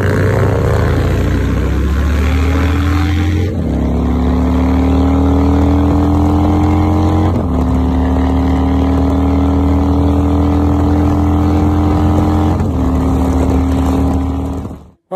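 A Harley-Davidson motorcycle is ridden on a clear day. Its loud, close engine drones steadily, and the pitch climbs and drops back at several gear changes before it cuts off abruptly at the end.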